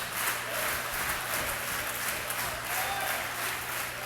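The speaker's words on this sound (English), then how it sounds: "this crowd from St. Ambrose is really getting rowdy" A rowdy home crowd of St. Ambrose fans claps and cheers steadily through a men's volleyball national semifinal, a dense, continuous wash of applause that stays fairly distant and even for about four seconds.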